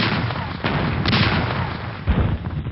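Booming artillery cannon fire rolls on continuously, with heavy low thuds landing every second or so over a dense rumbling background.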